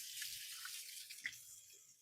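Running tap water flows steadily into a kitchen sink as hands are rinsed under the faucet, a soft continuous hiss with a brief splash partway through and no talking.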